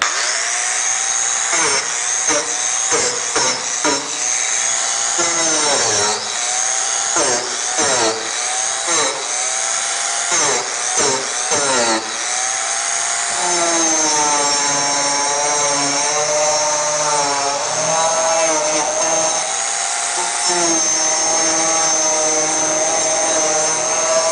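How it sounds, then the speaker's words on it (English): A Dremel rotary tool carves cracks into a wooden barn beam, a loud continuous high-pitched whine that dips and rises in pitch with repeated short grinding strokes close up throughout. "using the Dremel tool, I've got some cracks of different sizes"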